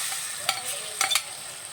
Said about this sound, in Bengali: ডাল বাটাটা একটু ভালো করে নেড়ে চেড়ে মিশিয়ে নিচ্ছি।